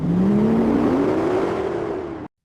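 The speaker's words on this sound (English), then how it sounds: "The rear wheels put power to the asphalt, the exhaust notes singing through the gears" A 325 horsepower Ford Mustang accelerates hard on an open road, its exhaust note climbing steadily and loud through the gears for a couple of seconds before cutting off abruptly.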